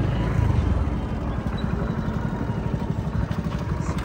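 A motorcycle engine runs at a fuel stop, a steady close, low, pulsing rumble that continues throughout with faint clatter and no clear talk.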